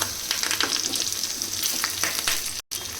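Garlic and curry leaves frying in hot oil for a tempering, a steady close crackling sizzle with scattered pops and no voices, briefly cut to silence near the end.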